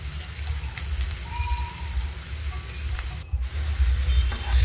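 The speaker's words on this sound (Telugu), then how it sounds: "సన్నగా కట్ చేసి పెట్టిన ఉల్లిపాయ ముక్కలు వేసుకొని ఒక్కసారి ఫ్రై" Thinly sliced onions fry in hot oil in a pan, a dense, fairly loud sizzle crackling continuously, with a brief clink or scrape near the end and no talking.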